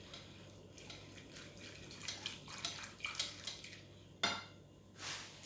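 A utensil stirs gelatin into crème fraîche in a pot, giving soft, faint scraping and clinking taps in an irregular rhythm, with one sharper knock near the end.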